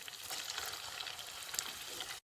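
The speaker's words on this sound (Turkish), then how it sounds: "Şimdi de kızartıyoruz." Steady, dense sizzling of içli köfte (stuffed bulgur meatballs) frying in hot oil, crackling continuously at close range with no talking, then cutting off abruptly.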